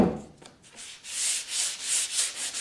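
Knotty pine cabinet door edges and chamfers being sanded by hand: a few quick rubs, then a regular series of close, rasping strokes, with no talking.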